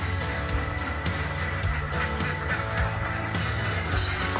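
Ducks on a duck layer farm quack and honk repeatedly, a busy overlapping chorus of many birds close by with no talk.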